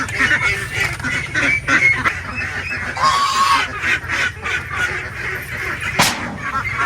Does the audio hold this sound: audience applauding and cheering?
no